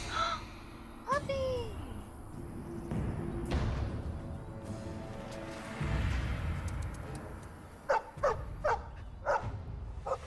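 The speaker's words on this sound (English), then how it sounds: "Puppy!" In the fantasy role-playing game Dragon Age: Origins, a puppy gives several short, sharp barks and yelps, some clustered in quick bursts near the end, over game noise and low rumbling, with a person talking at times.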